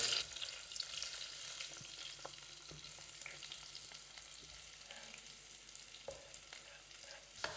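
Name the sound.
onions frying in coconut oil in a pan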